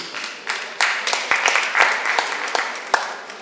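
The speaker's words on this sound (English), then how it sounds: "Give a round of applause, please." A small audience at an outdoor Afrikan culture market gives a short round of applause, with loose, scattered claps rising and falling over a few seconds amid background voices.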